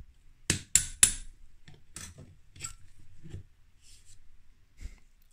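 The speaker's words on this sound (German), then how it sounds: "dann nehmen wir uns den passenden Splittentreiber und schlagen die einfach raus." Pin punch driven against a wood block with a hammer to knock out struts while converting a Squall 60 fishing reel, giving a few sharp metallic strikes followed by softer knocks and scrapes, close and otherwise quiet.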